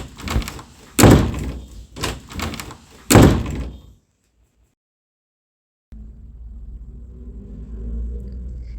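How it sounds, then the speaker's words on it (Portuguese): The heavy door of Noah's ark slams shut in a series of loud booming thuds, followed by silence and then a low steady rumble. "e Deus fechou a porta."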